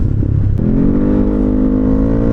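A Yamaha X-Max Gen 1 motor scooter engine revs up loudly and close, its pitch climbing and then holding at a steady high drone with no talking.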